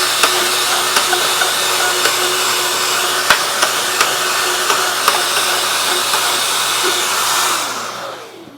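Plunge cut along a marked line on a bathroom vanity panel, a loud steady power tool whine with faint periodic ticks throughout, then winding down and fading out at the end.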